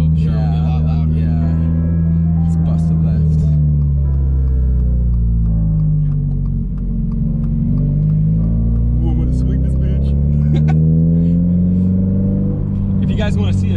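A modified Toyota GR86 with an aftermarket intake and downpipe drones steadily and loudly throughout, its engine note rising and falling, with a few brief sharp crackles and voices talking over it.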